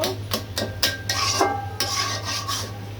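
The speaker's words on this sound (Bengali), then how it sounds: "একদম ভাজা ভাজা করে কচুর শাকটা নিচ্ছি, একদম ভেজে তেল বের করে নিব।" Taro leaves stir-fried in oil in a pan, a spatula scraping and knocking against the metal in quick irregular strokes over a low sizzle, close and fairly loud with no talking.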